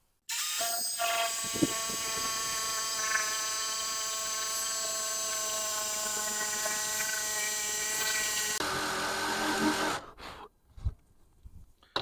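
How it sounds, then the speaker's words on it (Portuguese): Jigsaw fitted with a wood blade cutting through wood, a loud continuous buzzing whine lasting about ten seconds before cutting off, followed by faint handling clatter. "Vou usar a serra tico-tico com uma lâmina para madeira, própria para madeira."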